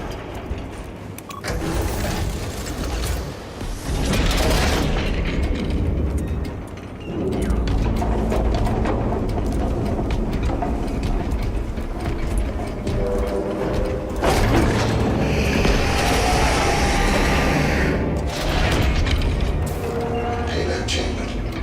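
Heavy mechanical clunks, whirs and ratcheting as a payload is chambered in the video game Space Marine 2, loud and layered with shifting machinery surges.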